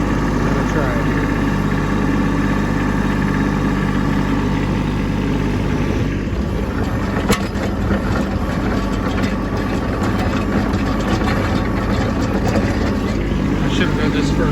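A Kubota B2601 compact tractor's engine runs steadily in low gear in heavy snow, a loud, constant low droning hum close by that holds through the whole stretch with slight roughening midway.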